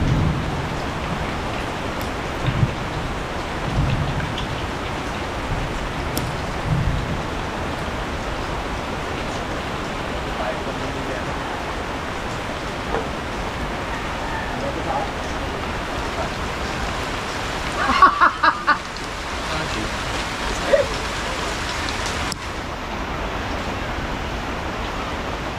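Steady rain falling outdoors, a continuous close hiss of drops on surfaces with a few brief louder knocks and splatters, no talking.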